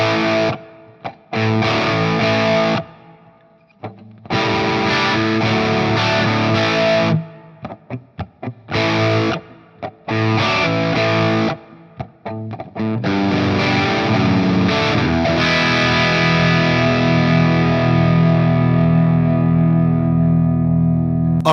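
Distorted electric guitar rhythm part played through a Fender Tone Master Pro, loud and alone, with choppy stop-start chords and short gaps before a long sustained final chord ringing out.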